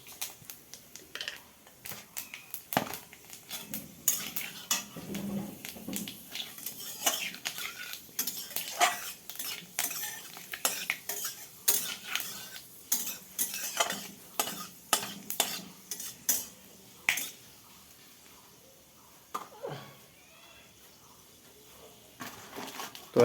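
Panch phoron spices crackle in hot oil in a pan while a utensil scrapes and stirs, producing a run of sharp, irregular clicks and scrapes close up, easing into quieter sizzling toward the end.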